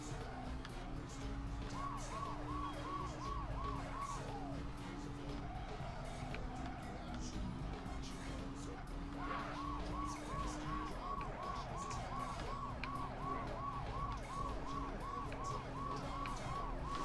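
A police car siren in a Teknoparrot arcade racing game: a faint, repeated wailing siren sounds in two bursts over a steady engine drone, with other game sounds around it.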